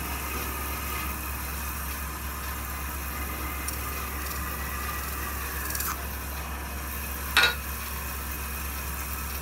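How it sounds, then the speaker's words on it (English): A parting tool works a butternut wood vase off a spinning lathe, a steady rasping scrape over a constant motor hum, ending with a brief louder snap near the end. "I'm going to part it off a little bit back from the bottom so I don't end up pulling any fibers out."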